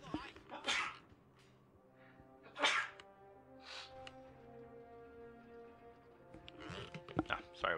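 A man sneezes sharply, two loud bursts close to the mic, over a steady hum of Company of Heroes 2 game sounds with faint tones.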